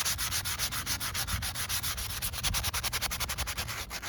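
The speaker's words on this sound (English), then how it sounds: "So then you'll take your sandpaper. Like I said, I'm using 120 grit." 120-grit sandpaper scrubs the paint on a 2009 Honda Civic in steady, rhythmic back-and-forth strokes, close and rasping, with no talking.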